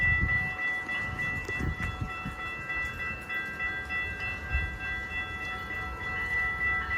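Amtrak Hiawatha passenger train with two SC44 Chargers and a P42DC at Glenview, a continuous low diesel rumble with steady tonal engine hum, louder bursts at the start and mostly even rolling noise after.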